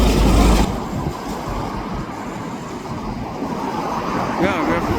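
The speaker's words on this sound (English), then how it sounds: "Just trying to do a quick coverage of the long rack train going through Queensboro into Annis's Island" A long freight rack train rolls through Queensboro toward Annacis Island, a steady broadband rumble of wagons passing nearby with a heavier burst at the start, continuous throughout.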